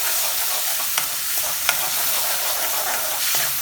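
Ground tomato and onion paste stirred in hot oil for a minced meat and fenugreek curry, a steady close sizzle with occasional spoon scrapes against the pan, no talking.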